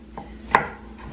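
One crisp knife chop through onions on a cutting board for slow cooker beef vegetable soup, a single clear cut, with only faint kitchen background around it.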